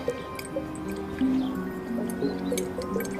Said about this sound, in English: We can see the water is draining from this top vessel as fast as that pipe will carry it really down into the bottom vessel.